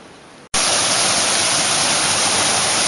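Fresh water in a river on a mountain trek in Serra dos Órgãos National Park, Brazil, rushing loudly and steadily like a waterfall, breaking in suddenly after a brief quieter moment and continuing as a dense, close roar.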